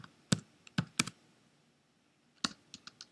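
Typing on a computer keyboard, a few sharp close keystrokes in two short bursts separated by a quiet pause, faint overall.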